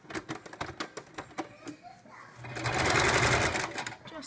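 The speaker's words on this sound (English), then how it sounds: "Seam is sticking up a little bit, so we're gonna add a stitch in." A sewing machine sews a straight stitch to tack down a seam on homemade towel pants. Sharp clicks and a voice come first, then the close, steady motor hum runs for about two seconds.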